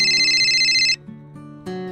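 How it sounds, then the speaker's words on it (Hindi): A phone rings with a bright, melodic electronic ringtone that cuts off after about a second, then starts up again briefly, with no one speaking. "ये मकान मालिक क्यों फ़ोन कर रहा है?"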